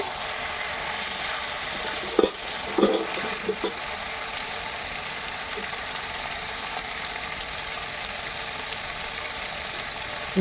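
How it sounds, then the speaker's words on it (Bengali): Mutton curry with papaya sizzles steadily in a pan as spice masala is stirred in, with a few spoon scrapes early on over an even, continuous frying hiss. "মশলাটি দিয়ে ভালো করে নেড়ে নিতে হবে"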